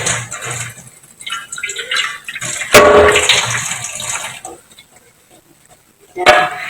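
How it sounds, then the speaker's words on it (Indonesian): Running water splashes and rushes in bursts as something is rinsed under a tap, with a louder gush midway and brief voices in the background. "Kita bilas dengan air mengalir."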